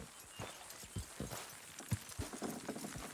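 Horse hooves clip-clopping in the Red Dead Redemption 2 video game, a steady run of close, fairly loud hoofbeats over a busy background, with no talk.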